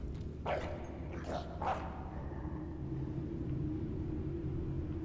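A dog in the video game Fable III gives three quick barks up close over a low ambient rumble, then the background continues alone.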